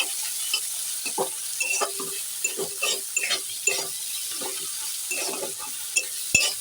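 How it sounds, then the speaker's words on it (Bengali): Chopped onion fries in oil for a fish-head curry, giving a steady close sizzle broken by repeated scraping and stirring strokes, with a sharp clink near the end and no voices. "এই তেলের মধ্যেই আমি পেঁয়াজ কুচিটা দিয়ে দেবো দিয়ে ভালো করে একটু ভাজবো"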